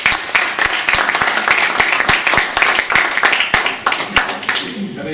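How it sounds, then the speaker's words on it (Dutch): A crowd claps in sustained applause, dense and steady throughout, with some voices mixed in. "En misschien ook nog even een applaus voor jullie input."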